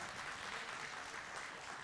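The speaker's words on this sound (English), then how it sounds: "give a round of applause" Faint, steady applause from an audience at a livestock and baking auction, even and unbroken, with no voices standing out.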